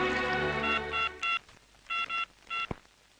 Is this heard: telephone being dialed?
yes